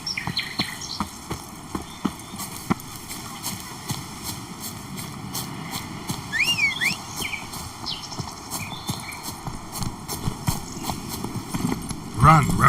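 A horse gallops in the video game Witcher 3, with rapid, steady hoofbeats throughout over a sustained game soundtrack, and a brief whinny-like sound near the end.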